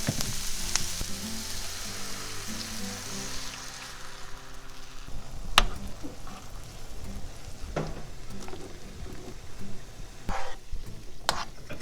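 Bacon stir-frying in a pan while making cream tteokbokki gives a steady, close sizzle with crackling pops throughout, and a few sharper clicks and stirring knocks come through near the end.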